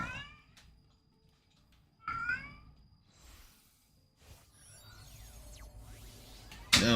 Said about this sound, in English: You're a good cat.